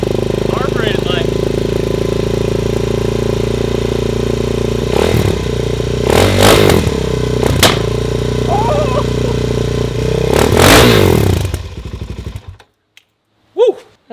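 A cold, carbureted Suzuki DRZ motorcycle engine runs at a loud, steady idle close by, with a few short blips of throttle and voices talking over it, before the engine shuts off and everything goes nearly silent.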